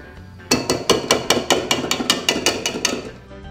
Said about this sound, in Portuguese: Agora eu vou bater 200 ml de chantilly bem gelado, tá?